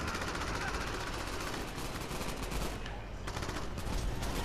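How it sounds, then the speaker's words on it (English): Gunfire in the Crackdown video game, dense overlapping bursts of automatic shots hammering continuously and loudly, with a brief dip before the firing resumes. "Where are these people shooting me from?"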